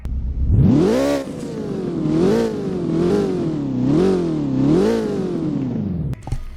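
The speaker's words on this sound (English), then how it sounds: "Revving is pretty nice. I like the sound that the rev gives." In a Roblox driving game, a McLaren 570GT engine is revved repeatedly, about four close, loud swells of rising and falling pitch over a sustained idle, with no talking.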